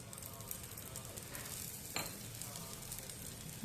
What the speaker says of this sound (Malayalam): ഒരു ദോശ കൂടെ നമുക്ക് ഇതുപോലെ ഉണ്ടാക്കി കാണിക്കാം